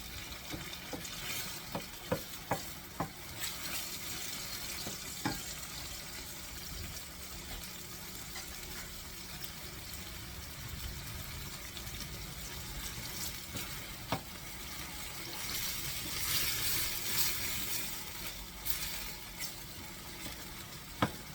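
Canned peeled tomatoes sizzle and fry steadily in a pan as they thicken, a continuous bubbling hiss with occasional small pops and clicks of stirring.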